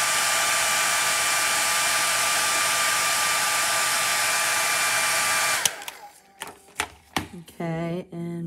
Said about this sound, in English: I'll show you how I'm going to dry it real quick